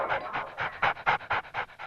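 A dog panting hard in a rapid, steady rhythm of about nine quick breaths, close and fairly loud with no talking over it.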